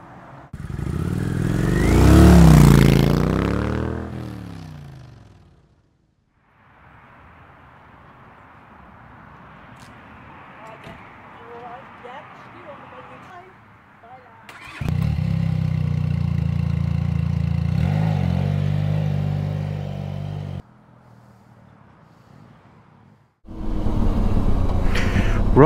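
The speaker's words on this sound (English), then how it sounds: "This is the Benelli TRK502X, and I'm going to take it for a spin" Benelli TRK502X adventure motorcycle engine: a loud rev near the start, then a quieter idle, then a strong steady engine drone and another burst at the end, with short gaps of near silence between.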